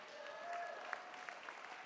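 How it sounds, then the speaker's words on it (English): An audience at a teachers' union convention breaks into steady applause, a dense patter of many hands clapping from across a large hall, with a few sharper nearby claps. "No, we should clap for John Miller."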